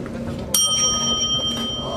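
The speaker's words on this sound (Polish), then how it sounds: "Dzwonię." A small service bell rings once in a busy restaurant kitchen, a bright, sharp ding that hangs on with a clear ringing tone over a low background murmur.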